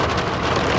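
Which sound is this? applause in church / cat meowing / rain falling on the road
rain falling on the road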